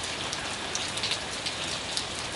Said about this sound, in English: This rain is warm and it's beautiful, and I want to remember it forever.